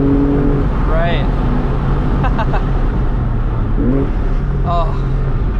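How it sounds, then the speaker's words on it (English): Inside a 2002 Porsche 996 911 Targa, the engine hums with a loud, continuous drone, and brief rising pitch sweeps mark downshifts on a canyon road while people talk over it. "Oh, downshifts sound great too."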